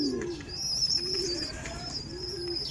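Pigeons coo in steady low, rolling phrases close by, with occasional higher chirps from other birds mixed in; no one speaks.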